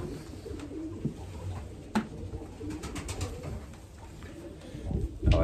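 Racing pigeons coo softly inside a loft, low throaty calls repeating at an uneven pace, with faint rustling and a few brief knocks nearby.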